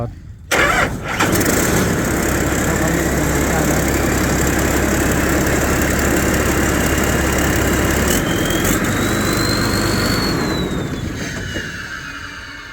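A rice harvester engine cranks and catches, then runs at a loud, steady roar close by for the rest of the stretch, with a rising whine near the end as the machine winds up.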